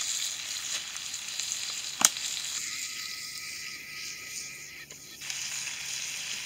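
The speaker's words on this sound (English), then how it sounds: "You ever seen a man in red pants cook bacon like this before?" Bacon sizzles on a stick held over an outdoor backyard fire, a steady close crackling hiss with one sharp pop and a brief higher whine partway through, no one speaking.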